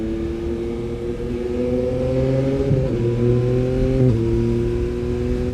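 A motorcycle engine drones loudly and steadily while accelerating through the gears at road speed, its pitch dipping briefly twice at shifts before climbing again, with no talk.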